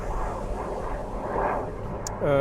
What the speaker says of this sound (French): on a un petit avion qui passe au-dessus, là